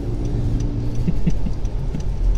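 A 2025 Honda City V variant in Meteoroid Gray Metallic running on unleaded fuel, its engine turning over and settling into a steady low rumbling idle close by, with no voices over it.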